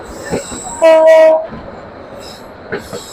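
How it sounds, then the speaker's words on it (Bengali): The Karatoya Express passenger train rumbles along a long curve near Lalmonirhat, with a long, loud horn blast and a brief squeal of wheels, then clattering continues more quietly. "আমাদের ট্রেনটি সুবিশাল একটি কার্ভ নিয়ে যাচ্ছে সামনে।"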